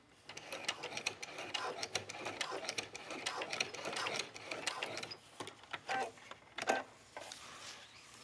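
Quiet sewing machine stitches along a patchwork dog leash strap, with short stop-start bursts and light mechanical clicks, close but soft, and a voice talking faintly in places.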